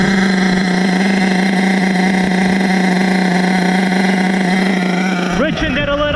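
HPI Savage XL nitro RC truck with a K5.9 engine burning 30% nitro, 10% oil fuel drones steadily and loudly at a constant pitch, then revs up sharply near the end.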